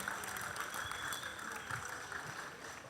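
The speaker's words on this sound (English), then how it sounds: "Please, a round of applause to the two teams" An audience at a school debate applauds the two debate teams, producing a steady, moderate wash of clapping that continues without a break.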